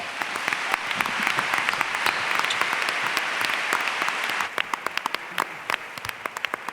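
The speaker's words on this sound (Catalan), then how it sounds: "Vinga, un aplaudiment." Sustained crowd applause at a tenth-anniversary celebration for the ACOE association, greeting its president; dense clapping thins after a few seconds into scattered individual claps, with no speech.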